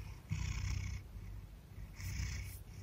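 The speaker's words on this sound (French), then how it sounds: "Tu ronronnes." A domestic cat purrs close to the listener, a soft, steady, low rumbling vibration that swells with each breath over two slow cycles, alone and without any talk.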